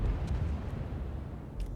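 Naval gunfire and shell explosions from World of Warships, with a heavy cruiser firing on a burning battleship, come through as a low continuous rumble with soft booms near the start and end, alone without talk.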